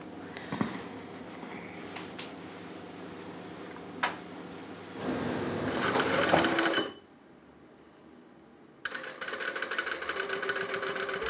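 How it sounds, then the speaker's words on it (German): A lockstitch sewing machine stitches tunnel bands onto a wedding dress, with scattered clicks, two bursts of fast whirring stitching, and a quiet pause between them. "Die Schneiderin näht die Tunnelbänder an einer Steppmaschine auf."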